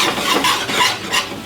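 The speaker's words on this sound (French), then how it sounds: "Petit fouet." A small whisk stirs a mustard sauce made with reduced white wine and veal glaze in a pan, giving a steady, close scraping and swishing with a light sizzle and no talking.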